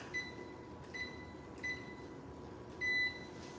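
An oven timer beeps four times in a home kitchen where pumpkin bread is being baked, the short electronic tones spaced evenly with the last one held a little longer, clear over a low, steady room hum.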